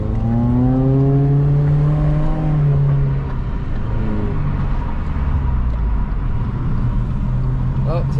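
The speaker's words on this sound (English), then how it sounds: "Bunch of Harleys." Several Harley-Davidson motorcycles rumble past close by, a deep throbbing engine note swelling and then fading over about eight seconds, with people talking over the noise.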